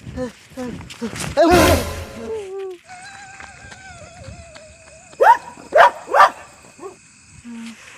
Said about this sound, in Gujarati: અરે બાપરે આ તો હડકાયું કૂતરું છે